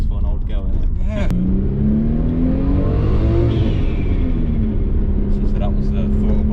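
A 26-year-old Nissan R32 Skyline with a 2.0-litre engine tuned to 420 bhp revs up to a rising, whirring peak and falls back, loud and close, after a brief burst of talk.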